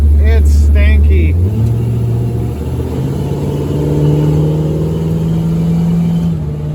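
A car driven on the street, its exhaust rumbling low and loud as the engine note climbs through gears and holds a steady drone, with a voice briefly heard at the start.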